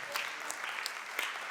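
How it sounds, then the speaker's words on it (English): An audience at a poetry event claps in a brief, quiet patter of applause that fades without building. "give them another round of applause"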